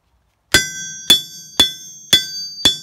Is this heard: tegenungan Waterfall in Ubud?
no